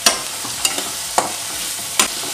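Onion and green chili sautéing in a pan for masala sundal, with tomato about to go in: a soft steady sizzle broken by four sharp scraping stirs of a spoon against the pan, close and alone with no talking.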